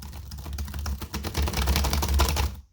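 Rapid, hard keystrokes clatter on a TeckNet X315 wireless computer keyboard, close and continuous for a few seconds, with no voices.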